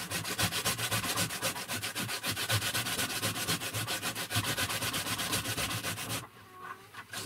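A dulled screwdriver scrapes a carrot clean in a steady, rapid series of close rasping strokes that fill most of the stretch, then stop, leaving quieter background noise.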